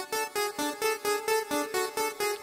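Low-toned synthesizer pluck notes repeat in a steady, even rhythm, about ten short bright hits with brief gaps, alone and fairly quiet.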